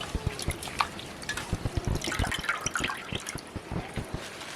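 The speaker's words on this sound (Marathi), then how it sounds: "अशी पाण्यातून काढून घ्यायची म्हणजे धुवून घ्यायची" Freshly picked leafy greens from a Konkan farm are swished in a basin of water and lifted out, giving close, irregular splashes, trickles and drips that run on continuously with no talking.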